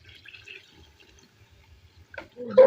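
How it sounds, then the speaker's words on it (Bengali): Water goes into the rice for a simple biryani, starting as soft, sparse drips and ending in a sudden louder gush of pouring; close and quiet overall, with no talking. "আমি এখন জল দিয়ে দিচ্ছি"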